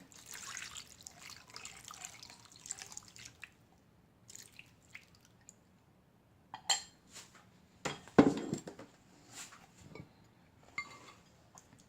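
Water and sauce are poured over tofu in a pot of spicy Korean crab stew, heard as soft trickles, drips and light clinks of utensils against the pot, quiet and intermittent with pauses between.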